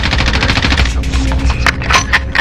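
Rapid machine gun bursts from a Warzone firefight ring out loud and close, rattling continuously with dense repeated shots and a few sharper cracks toward the end.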